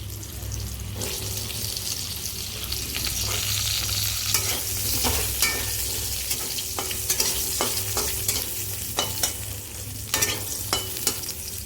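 Potatoes fry in hot oil with whole cumin, giving a continuous hissing sizzle broken by scraping stirs and clattering spoon strokes, loud and close.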